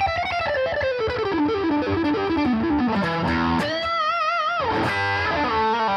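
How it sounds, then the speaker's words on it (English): An electric guitar played through a distortion pedal plays a descending run of sustained notes with a gritty, driven tone, then bends and wobbles, close and loud. "This being the distortion pedal."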